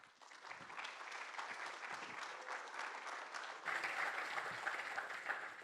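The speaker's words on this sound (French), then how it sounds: "On l'applaudit très fort." An audience applauds steadily at a tenth-anniversary event for the UMET laboratory at Centrale Lille, with dense, even clapping that swells a little louder partway through and carries on at a fairly distant, moderate level.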